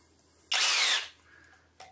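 A Kobalt 24V cordless rotary hammer spins up in drill mode for about half a second, loud and close. Its motor whine winds down, and a faint click follows.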